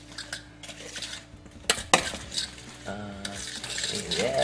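Fajita and pico de gallo ingredients being stirred together with a utensil in a dish, clattering scrapes and knocks of metal on cookware, close, with a faint voice briefly underneath.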